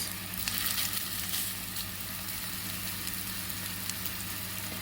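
Meatballs searing in hot oil in a pan, a loud, constant sizzle with dense crackling that holds steady throughout.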